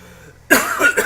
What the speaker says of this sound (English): Is my mom gone so I can cough freely now?